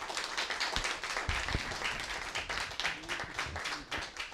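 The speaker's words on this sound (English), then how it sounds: "with a big round of applause" An audience gives a big round of applause welcoming Dr. Khaled Almaeena at a pluralism center conversation event, a steady wash of clapping from many hands filling the room throughout.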